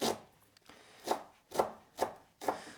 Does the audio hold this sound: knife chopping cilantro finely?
yes